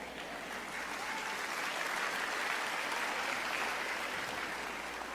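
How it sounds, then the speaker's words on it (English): An audience at a church sermon claps in steady, sustained applause that swells slightly and then eases, heard alone and somewhat distant. "all those who are clapping are the millennial people"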